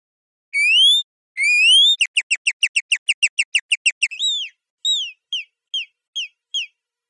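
A human voice imitates bird calls with added effects: two long rising whistles, a rapid run of about fourteen sharp chirps, then a slower series of five or six short calls, clear and alone.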